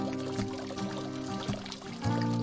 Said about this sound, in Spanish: Jardines y paseos salpicados de acequias cubiertas y fuentes monumentales